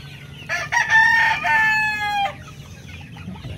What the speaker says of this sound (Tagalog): magagandang mga manok dito.